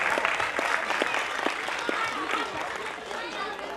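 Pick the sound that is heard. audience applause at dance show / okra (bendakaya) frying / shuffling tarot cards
audience applause at dance show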